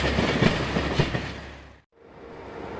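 An SNCF diesel railcar runs along the rails with a steady, fairly loud rumble and a few rhythmic wheel clacks. The sound cuts out briefly and then resumes more softly.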